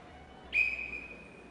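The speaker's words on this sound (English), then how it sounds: "On my whistle, on my whistle." A single short whistle blast from a referee at a court-side half-time show, sharp and moderately loud over a quiet background, fading within a second.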